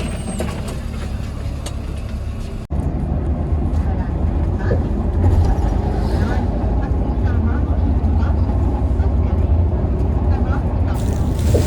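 Steady low engine rumble and road noise fill a crowded metro bus cabin travelling from Sialkot to Islamabad, with a brief dip early on and faint voices murmuring underneath.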